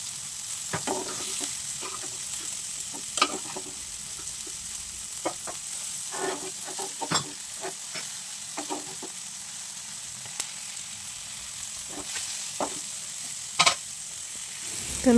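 Fresh fish frying in a pan with oil, a steady crackling sizzle with scattered pops and spits, continuing close and fairly quiet for the whole stretch with no talking.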